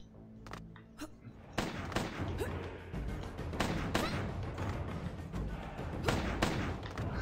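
Heavy gunfire and thudding impacts from the Dex video game, a dense run of loud shots and bangs following a few sharp bursts at the start, continuous and close.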